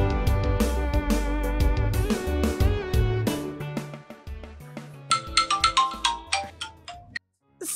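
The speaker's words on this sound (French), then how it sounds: "Oh, ton téléphone." A melodic mobile phone ringtone plays loud and near, a busy synthesized tune that thins into bright chiming notes before cutting off abruptly.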